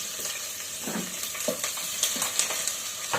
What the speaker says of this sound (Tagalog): Sabay na yung pritong daing tsaka paggigisa.